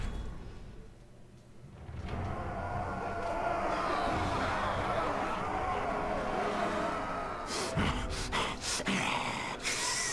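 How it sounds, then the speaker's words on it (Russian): Creature growling and panting in Middle-earth: Shadow of Mordor, a low, rough rumble that swells after a quiet start and holds steadily loud, broken near the end by a few sharp, bright bursts. "Что-то рычит, пыхтит."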